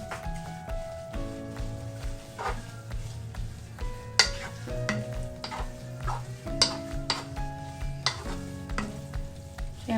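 Pansit bihon rice noodles with soy sauce being stirred in a pan, busy sizzling with repeated scraping and clattering of a utensil against the metal, close up, with faint tonal background sounds and no talk.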